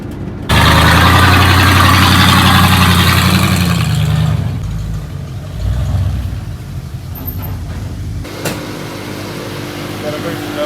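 A freshly built VW 2165cc Type 1 air-cooled engine runs at a steady loud idle for several seconds, then fades lower, with a metallic rattle from loose screws and a voice speaking over it.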